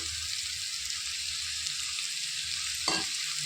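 Boiled bitter gourd pieces are stirred through oil in a pan, with a soft, quiet sizzle and a single scrape of the spoon near the end.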